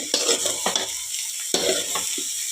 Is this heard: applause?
no